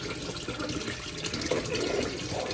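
A washing machine fills with water for its second rinse, a steady close rush and gurgle of inflowing water with slight bubbling swells and no talking.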